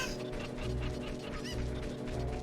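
Chickens clucking in Kakariko Village in The Legend of Zelda: Ocarina of Time, a steady run of short clucks over continuous game music with no talking.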